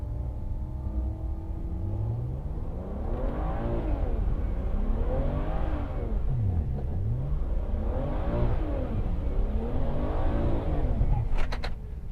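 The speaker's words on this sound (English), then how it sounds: "going to try a second gear burnout this time." A BMW 335i with the N54 engine revs hard in repeated rising and falling sweeps during a second-gear burnout, loud and close, over a steady roar, with a brief sharp crackle near the end.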